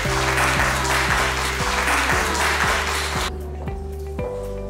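Loud, dense applause from the audience at an awards ceremony. A steady, repeating low musical pulse plays beneath it, and the clapping thins out near the end.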